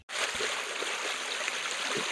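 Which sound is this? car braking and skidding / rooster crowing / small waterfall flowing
small waterfall flowing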